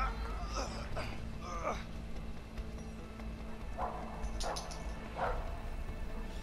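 Dog barking and yipping in the video game A Way Out during a chase near a cliff, several short bursts over steady game background, with players talking.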